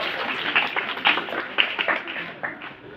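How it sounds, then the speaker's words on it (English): Students and teachers at a school morning assembly receive applause, a short burst of scattered hand clapping from a modest crowd. "give a big clap for all the students and all the teachers"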